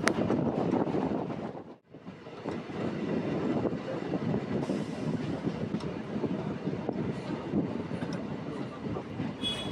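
Howrah–Tarakeswar local train rolling along between stations, a dense continuous rumble with rattling carriages and wind buffeting the microphone, with a brief dip partway through, no talking.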